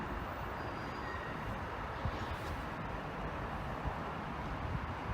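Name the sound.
train approaching a level crossing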